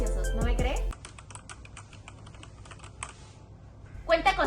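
Clicky typing on a wireless tri-mode keyboard fitted with Outemu blue switches, a run of fairly close, even keystrokes, with a brief voice before and after.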